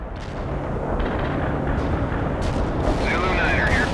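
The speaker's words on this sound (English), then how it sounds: "Artillery strike completed." Artillery strike explosions from the video game World in Conflict roll together into a loud, sustained barrage of deep booms and rumbling blasts that runs without pause for the whole stretch.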